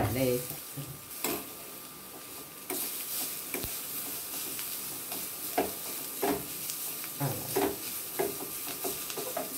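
Carrot frying in oil for sabudana idli, a continuous soft sizzle punctuated by repeated spoon scrapes and taps against the pan, close by, with brief voice fragments.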